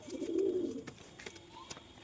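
A caged pigeon gives a low, throaty coo up close in the first moment, then softer fluttery sounds and faint chirps follow in a quiet space.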